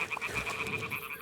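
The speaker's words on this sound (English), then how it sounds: "Ah, the toads are croaking here." Toads croak in a steady, rapid rhythm from a marsh in the medieval world of Kingdom Come Deliverance 2, a continuous moderately loud chorus with no voices over it.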